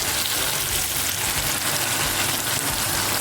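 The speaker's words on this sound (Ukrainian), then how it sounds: "І до такого стану нам потрібно смажити наші овочі" Steady, dense sizzling of vegetables frying in a hot pan, continuous and even throughout with no voices.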